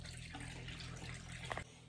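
Dirty rinse water drains steadily out of a washing machine, a continuous close rushing and trickling flow with a brief splashy surge near the end.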